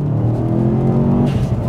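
A Subaru Impreza WRX accelerates hard out of a corner. The engine drone is loud and rising, heard from inside the car.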